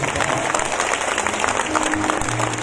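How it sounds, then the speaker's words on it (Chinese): Audience applause at a charity concert for a cancer foundation, a dense steady patter of clapping filling the hall throughout, with faint crowd murmur underneath. "请大家给我一个掌声，好不好？"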